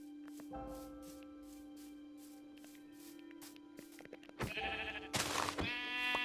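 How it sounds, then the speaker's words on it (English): Minecraft sheep bleat repeatedly over a steady game hum, several short spaced calls followed by louder, closer bleats near the end, with no talking. "Okay, come here, sheep."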